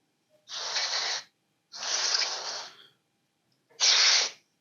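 Three bursts of hissing aerosol spray cleaning a Toro Recycler 22 push mower, each about a second long, separated by short pauses, close and fairly loud.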